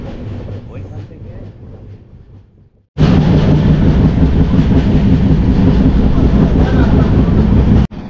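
A train runs along a rail line through hilly South Indian country, its loud, steady roar and rumble starting abruptly after a quieter stretch and holding close and continuous before cutting off.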